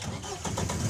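A 1927 vintage car engine cranks and catches, giving a brief, close mechanical turnover with low rumbling, and voices are faintly present.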